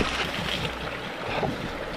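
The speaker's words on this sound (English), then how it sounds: "It's filling up with hot water pretty quick." Hot spring water in an Alaskan rainforest pours into a small pool, a steady rushing gurgle of flowing water, fairly close and continuous.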